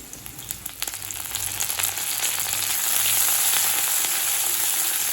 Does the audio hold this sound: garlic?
yes